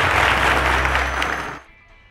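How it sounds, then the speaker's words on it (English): Studio audience applause at a televised quiz show, a dense, steady wash of clapping that fades out toward the end. "A round of applause to them"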